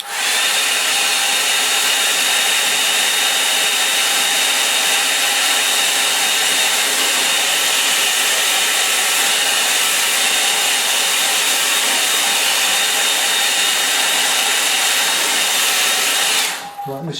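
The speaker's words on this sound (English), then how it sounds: "Now I'm going to give that a dry. So take your headphones off," A hair dryer blows steadily and loudly over a watercolour painting for about sixteen seconds, a continuous even whoosh that stops abruptly at the end.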